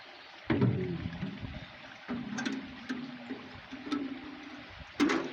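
A plastic container dips into water outdoors, giving several soft sloshing scoops and gurgles at irregular intervals over a steady hiss of background ambience.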